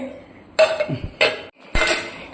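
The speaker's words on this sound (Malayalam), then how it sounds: "ഇടയ്ക്കിടയ്ക്ക് നമ്മളിങ്ങനെ ഒന്ന് അനക്കി കൊടുക്കണം ചട്ടിയിൽ" A metal spoon scrapes and knocks against a pan of simple sardine fish curry while stirring, three short clattering bursts of clinks and scrapes separated by brief quiet gaps, close and fairly loud.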